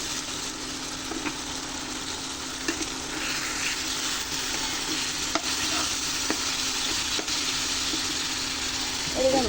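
Kachki fish curry with tamarind frying in a pan, a steady loud sizzle running throughout, with occasional stirring scrapes, close by.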